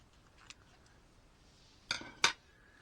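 Small scissors snip into a ball python egg, a couple of faint close clicks followed by two sharper metallic cuts in an otherwise quiet room.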